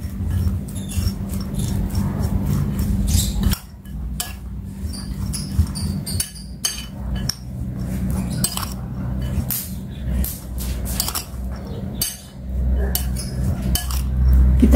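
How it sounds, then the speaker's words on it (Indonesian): Spoon scraping and clinking against a bowl while a baked diet snack mixture with spring onion and pepper is stirred, steady repeated taps over a low background hum. "Berikutnya kita tambahkan daun bawang dan merica. Kita aduk-aduk dulu ini."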